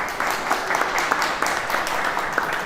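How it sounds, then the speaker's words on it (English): An audience at a lunch-and-learn talk on healthcare gives a round of applause, a dense, steady patter of clapping from a room full of people. "Can we give them a round of applause?"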